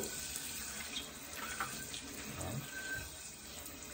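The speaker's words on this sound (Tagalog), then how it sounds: "Hugas-hugas ang pinggan." A kitchen tap runs steadily while square plates are scrubbed with a Scrub Mommy sponge and rinsed, with soft clinks and splashes under the constant close stream of water.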